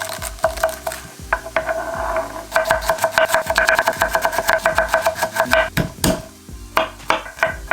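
Sliced mushrooms cooking in a pan with black pepper, a soft sizzle under repeated clacks and scrapes of a utensil stirring against the pan, irregular and close.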